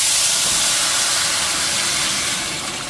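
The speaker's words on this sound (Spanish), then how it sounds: "Ahora lo que voy a hacer, agregar lo que licué," Blended onion and garlic poured into a pot of rice, bursting into a loud, dense sizzle that hisses steadily and eases off slightly toward the end.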